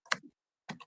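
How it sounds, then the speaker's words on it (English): Aggressive typing on a computer keyboard comes in two quick clusters of sharp clacks separated by a short silence, close and fairly loud. "what's with that aggressive typing?"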